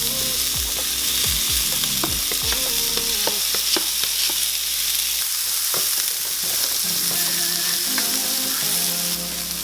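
Jackfruit and minced garlic fry in a pan with a loud, constant sizzle up close, with clinking stirs and scrapes of the utensil scattered throughout.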